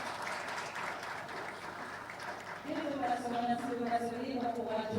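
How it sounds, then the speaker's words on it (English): Applause rings out for a speaker at a business pitching session of a 2025 conference, a steady crowd clatter that continues while a tonal, voice-like sound rises over it in the second half. "Resounding applause for him."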